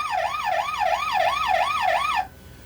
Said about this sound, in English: So just regular sirens.